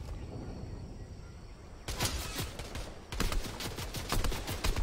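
Rapid bursts of video-game gunfire in Fortnite, loud and close, starting near two seconds and thickening into dense repeated shots from about three seconds on, over a steady background hiss.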